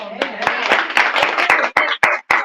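A live talk show studio audience claps together in a steady, rhythmic beat, the many hands merging into a full, close crowd sound that continues throughout.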